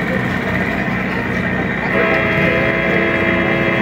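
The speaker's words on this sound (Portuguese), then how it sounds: "Já tá buzinando que vai sair" A river boat in the Amazon sounds its horn before departure, a loud sustained tonal blast that swells midway, with some talk nearby.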